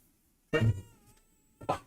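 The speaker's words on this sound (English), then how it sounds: "We've got a noisy cat." A cat meows twice, close by, with a short pause between the two calls in an otherwise quiet room.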